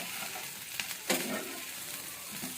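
Fish pieces coated in turmeric, salt and ginger paste fry in a pan, giving a steady low sizzle with a brief louder crackle partway through, no talking.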